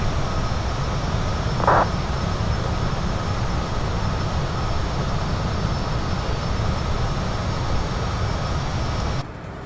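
Steady broadband roar of a Citation CJ4 business jet's engines cruising in Microsoft Flight Simulator 2020, loud and continuous throughout, with one brief tonal blip early on and the noise cutting off abruptly at the very end.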